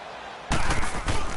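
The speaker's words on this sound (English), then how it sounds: "this home crowd is in a frenzy as their guys have pulled it out of the end" Home crowd in a PS4 football game erupting into loud, sustained cheering and roaring right after a made field goal, bursting in suddenly from a quieter start and swelling again near the end.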